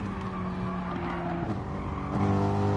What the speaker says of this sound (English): you can hear from the revs, not fully going through the revs and just trying to save that bit of fuel by short shifting every gear